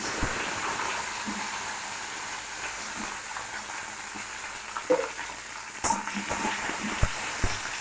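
Tomatoes fry in a pan for chutney with a soft, continuous sizzle and a few small clicks and stirs, quiet and close with no talking.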